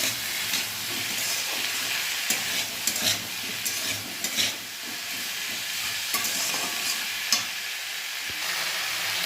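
Vegetables sizzle and fry in a pan seasoned with salt and turmeric while a spoon stirs them, scraping and clinking in irregular bursts over a constant hissing bed of steam, close and moderately quiet.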